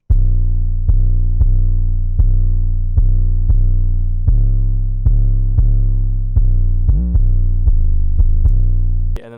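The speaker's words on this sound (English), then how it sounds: "Then I have the 808, which is going to sound like this." A heavy, distorted 808 bass line for a trap beat, with deep sustained notes restarting roughly every second and a brief pitch glide near the end, loud and alone with no voices.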